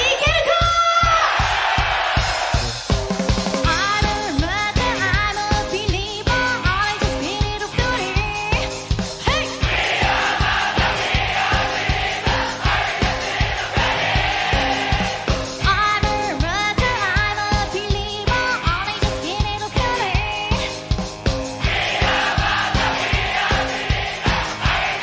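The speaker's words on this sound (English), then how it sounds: "Don't be shy, scream more." A large crowd at a live concert screams, cheers and chants over loud, pounding rock music with a heavy steady beat, the cheering swelling and fading across the performance.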